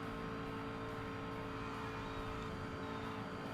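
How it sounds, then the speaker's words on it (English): A Ford GT race car in the Forza Motorsport racing game roars past, its engine a steady, loud, dense drone held throughout with no talk over it. "I think it's a Ford GT."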